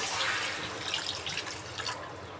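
About a cup of water pours steadily into a pan of brinjal curry with a soft continuous splashing hiss, fairly quiet and close.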